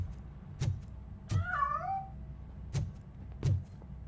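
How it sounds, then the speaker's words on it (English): A cat meows inside a building in the video game Robocop: Rogue City, one clear wavering meow that rises and falls, set between several dull heavy footsteps or thuds over a low background hum. "That cat must be hiding inside."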